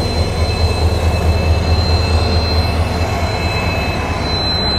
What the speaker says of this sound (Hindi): अपनी निकल रही है प्लेटफॉर्म नंबर 2 से।